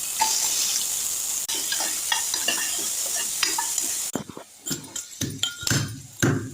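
Ginger garlic paste sizzles loudly in a hot pan for several seconds, then drops to scattered clinks and scraping as a spoon stirs it.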